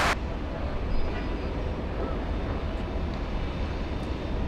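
Steady broadband roar of an airliner's engines on runway 24 right at Los Angeles International Airport, a continuous loud rumble held for the whole stretch with no voices.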